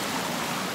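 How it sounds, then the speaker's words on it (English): A river rushing over small waterfalls along the Old Stone Fort Trail, a steady, close, full-bodied wash of flowing water with no break, heard alone. "Look at that rushing water."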